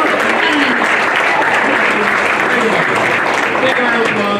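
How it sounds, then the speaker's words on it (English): A school variety show audience claps and cheers for a teacher, dense loud applause filling the hall continuously with whoops and shouting voices mixed in. "Big round of applause for Mr. Smith."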